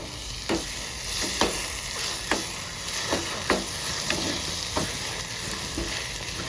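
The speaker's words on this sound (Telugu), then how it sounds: "ఇప్పుడు ఇది బాగా ఫ్రై చేసుకోవాలి" Goat head curry fries in a pan, a steady broad sizzle with a run of sharp spoon scrapes and stirs at irregular intervals, close and fairly loud, and no voices.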